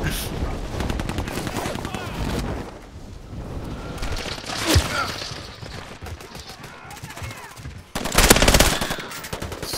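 Machine gun fire in Call of Duty Warzone comes loud and close as rapid sustained bursts, with a pause mid-stretch and a final intense volley, while voices talk over it.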